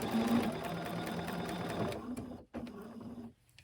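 A sewing machine stitches along the edge of a fabric mask, humming in a fast steady run for about two seconds, then stopping and giving a brief second burst before falling quiet.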